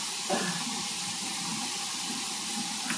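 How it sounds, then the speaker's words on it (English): Running tap water pours steadily into a kitchen sink during hand washing, a continuous close hiss with a couple of brief splashes and no talking. "We're going to wash our hands."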